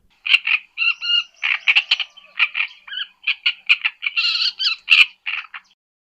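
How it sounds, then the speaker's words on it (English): A great reed warbler sings a loud, close, harsh song of grating, croaking phrases and chattering notes repeated in quick bursts, with no other sound behind it. "Hard 1, great reed warbler."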